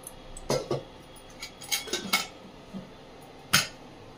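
Metallic clanks and clinks as a kadai is set down in a kitchen, several sharp knocks of metal cookware spaced across a few seconds with quiet between them.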